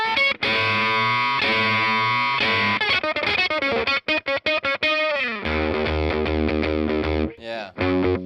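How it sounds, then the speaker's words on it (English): Heavily distorted electric guitar fuzz from a pedalboard, moving from overdrive tones into thick fuzz, with loud sustained chords and choppy, rhythmic strums played without a break and no talking. "see if we can get from some overdrive sounds to a fuzz, which we have now."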